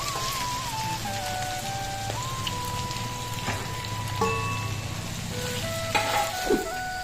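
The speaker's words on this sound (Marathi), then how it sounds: "आता यात मी हिरवे मसाले टाकले सगळे, हे जे मसाले सगळे मी टाकायला लागले" Green spices sizzling as they go into sautéed vegetables for Maharashtrian pakoda kadhi, a steady crackling hiss throughout with a faint tonal hum underneath and a few louder pops toward the end.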